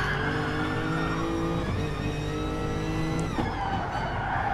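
A Lexus touring car in an online racing game at Laguna Seca, its engine holding a steady high-revving drone with harmonic whine, then briefly shifting pitch around a gear change, continuous and close with no voices.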